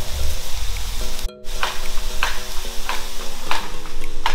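Onions and garlic sizzle in a butter sauce seasoned with Italian seasoning, a steady close crackle broken by stirring scrapes and one brief pause, with a faint tonal backing underneath.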